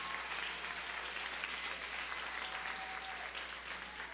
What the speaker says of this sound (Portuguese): eu gostaria de pedir então uma salva de palmas a todos esses participantes, o corpo de jurados, os times Dinamis, Quebra-Nozes e Pokébola